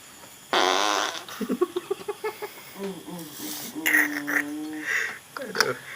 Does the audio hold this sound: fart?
yes